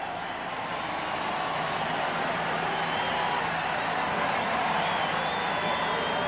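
A large stadium crowd at Atlanta during Game 2 of the 1992 World Series against Toronto makes a steady, broad roar of cheering and chatter that holds at an even level throughout.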